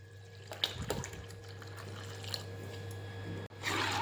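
Hot milk poured into a pot of rice kheer on a gas stove, a steady liquid pour with a soft continuous rush and a few faint splashes, close and alone.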